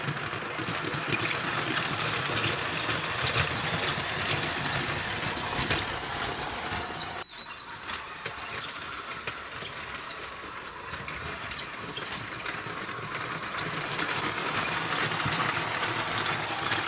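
A small electric motor in a LEGO toy locomotive whirs steadily with a high buzzing rattle, briefly cutting out midway before resuming, close and continuous.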